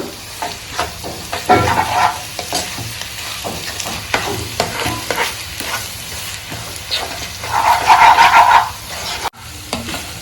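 Three eggs get stirred into sizzling goat blood fry in a hot pan, a loud steady crackle with repeated spatula scrapes and knocks against the pan, close by and without speech.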